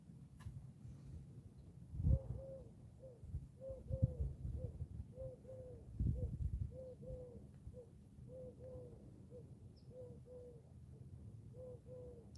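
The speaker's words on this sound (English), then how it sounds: "There's an owl out somewhere." Owl calling outside on a quiet night, faint repeated soft hoots in a steady pattern at a distance, with occasional low thumps and rustling nearby.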